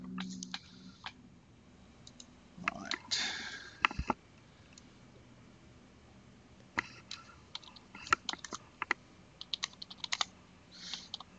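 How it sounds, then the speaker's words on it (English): Someone types on a computer keyboard in quiet bursts of clicking keystrokes, close and soft, with pauses between runs of typing and no talk. "So I'm going to type questions over to Connie"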